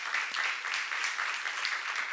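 Steady, dense applause from a church seminar audience, many hands clapping together at an even level throughout with no voices on top.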